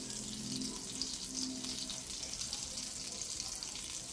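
Garlic sautés in a pan for a coconut-milk dish of river snails with moringa, giving a steady, soft hissing sizzle throughout, fairly quiet and with no voices.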